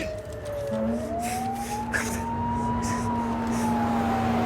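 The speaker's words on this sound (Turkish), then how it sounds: "sus ambulans geliyor" An ambulance siren wails steadily in a tense emergency scene during a police operation, its pitch sweeping slowly up and down over a noisy, rumbling background, loud and continuous throughout.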